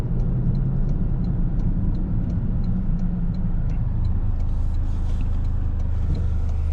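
A Toyota GR Corolla pulling hard, heard from inside: a loud, continuous engine drone and road rumble with a steady, slightly rising tone and no speech.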